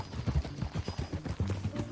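Horse hooves clip-clop in a steady walking rhythm in Red Dead Redemption 2, close and fairly loud, with a low hum and a brief snort-like tone near the end.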